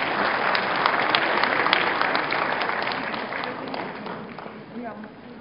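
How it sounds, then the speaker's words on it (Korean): An audience applauds at a university graduation ceremony, a sustained wash of clapping that slowly tapers, with some talk over it. "박수로 맞이해 주시기 바랍니다."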